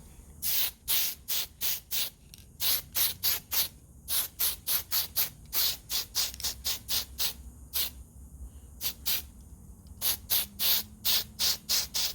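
A spray can lays Tamiya fine surface primer onto a model car frame in many short, sharp hissing bursts, close and rhythmic, separated by brief gaps.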